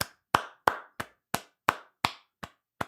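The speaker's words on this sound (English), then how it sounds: "I can join in the applause there." A single person claps slowly and deliberately, about eight evenly spaced, crisp handclaps with short silences between them, close and clear with no talking.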